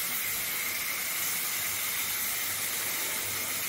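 Canned pineapple pieces fry in a pan for pineapple pulao, giving a loud, even, continuous sizzle and hiss up close, with no break or talking.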